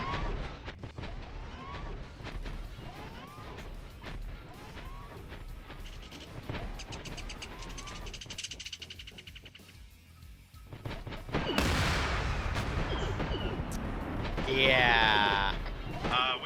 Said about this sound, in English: We just got hit with a cannon there